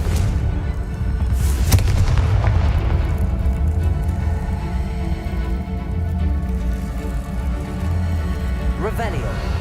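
A Confringo blasting spell goes off in an underground tunnel in the Hogwarts Legacy video game, giving a deep booming burst over a continuous low rumble, with voices present.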